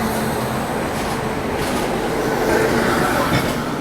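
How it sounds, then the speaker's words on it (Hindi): Inside an Indian express train running parallel to the Lucknow–New Delhi Tejas Express, a loud steady rumble of wheels and rail noise fills the space, with faint rhythmic clatter and no talk. "बीच में तेजस एक्सप्रेस"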